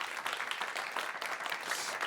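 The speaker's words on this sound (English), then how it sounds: "a big round of applause to you, the tech team" Conference attendees at a standards and repairability event give the tech team a round of applause, a moderately loud, even patter of many hands clapping, heard alone without speech.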